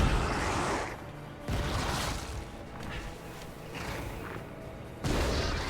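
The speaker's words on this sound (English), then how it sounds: "I thought I heard a shot." Gunfire in the video game Lies of P: heavy booming blasts, loud and broad, with one at the start, another about a second and a half in and a third near the end, separated by a quieter rumbling bed.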